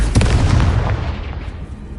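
A Confringo blasting spell explodes in the video game Hogwarts Legacy: a close, heavy boom with crackling bursts near the start, rolling into a rumbling tail that slowly fades.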